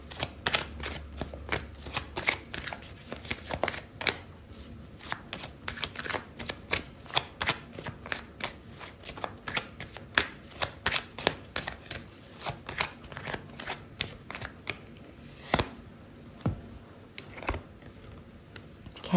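Tarot cards are shuffled and handled at close range, giving a long run of crisp, irregular snaps and riffles that come in bursts with short pauses, and no voices.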